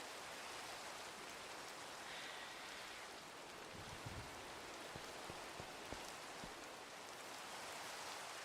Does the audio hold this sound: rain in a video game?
yes